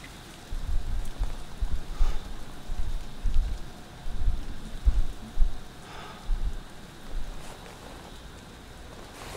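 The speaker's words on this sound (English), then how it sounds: "What is that? Acid rain?" Steady rain hisses and patters across the landscape of the video game Death Stranding, with low rumbling surges rising and falling throughout and no talking.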